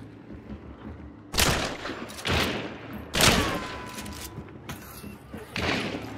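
A Caldwell Marathon rifle fires four spaced shots in the game Hunt: Showdown, each a sharp loud crack with a booming tail that rings out before the next.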